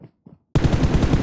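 A couple of soft thumps, then a rapid burst of automatic gunfire in a video game on the Livik map, with sharp, evenly spaced shots continuing to the end.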